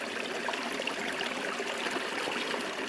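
River water runs steadily over stones, a soft, continuous babbling and trickling wash with no break, heard alone at moderate distance.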